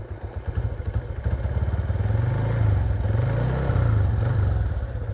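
Motorcycle fitted with a custom SND engine block, ridden while still cold: a steady, close, low engine drone that swells and eases with throttle changes, with no talk over it.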